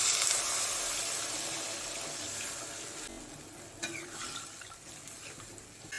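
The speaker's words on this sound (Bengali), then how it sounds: "এবার পরিমাণ মতো জল দিয়ে দেবো।" Water is poured into a karahi of rohu fish curry with fried pointed gourd and potato, giving a steady, fairly loud rushing hiss that gradually eases, with light sizzling and stirring sounds toward the end.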